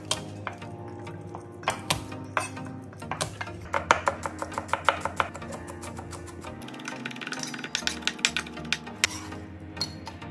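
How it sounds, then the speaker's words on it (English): Knife chopping on a cutting board while slicing green onions and mincing garlic cloves, a steady series of sharp close taps with quick bursts of rapid chopping and some clinking of kitchen utensils. "Slice 3 green onions. Mince 5 cloves of garlic."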